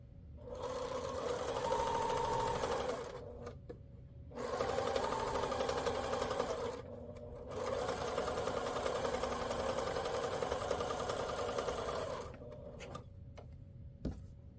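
A domestic sewing machine stitches quilt block pieces cut from layer cakes and charm packs, running in three long steady bursts with brief pauses between them, close and fairly loud, with no voices.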